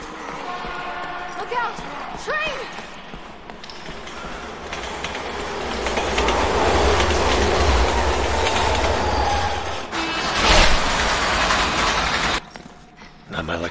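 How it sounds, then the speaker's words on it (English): A subway train approaches in Resident Evil 6, a swelling roar of rumbling wheels and clatter that builds to a loud peak, with shouted game dialogue and effects over it. "Look out! Train!"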